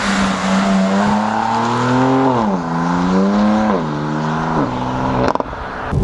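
BMW M4 CS with its stock factory exhaust pulls hard while driving, the loud engine note climbing steadily through the revs with brief dips at gear shifts, up close and continuous.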